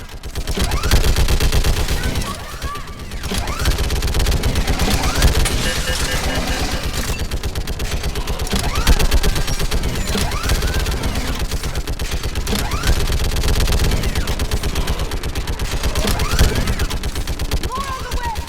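Sustained gunfire from Mass Effect Legendary Edition during a bridge battle on Thessia, rapid automatic bursts crackling loudly and continuously with shouted voices over the shooting.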